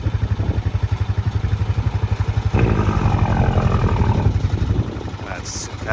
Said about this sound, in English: It's got a loud Jake brake on it.